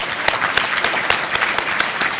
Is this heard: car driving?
no